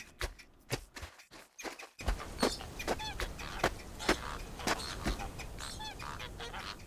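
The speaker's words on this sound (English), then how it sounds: "A lot of bird noises?" Birds in the video game Baby Steps, goose-like honks and squawks repeating irregularly over a busy ambient bed with scattered clicks, moderately loud, no talk.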